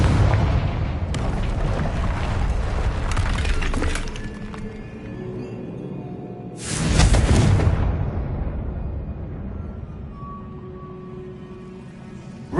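Confringo blasting spells cast in the Hogwarts Legacy video game: a string of loud, crackling explosive bursts, with the largest blast near the middle, then lingering rumbling debris and a quieter magical tone fading out.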